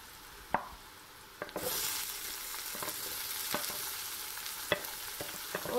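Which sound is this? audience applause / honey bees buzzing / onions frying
onions frying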